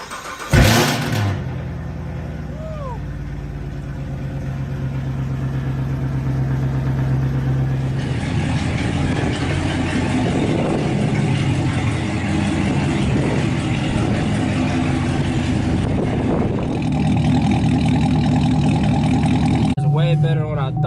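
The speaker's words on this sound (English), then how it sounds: "Give her a cold start for y'all." A Chevrolet Camaro ZL1 with over 700 horsepower cold-starts in a storage unit during a snowstorm, firing with a loud burst and then settling into a steady, rumbling idle that carries on for many seconds.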